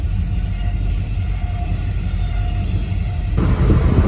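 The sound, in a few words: train passing by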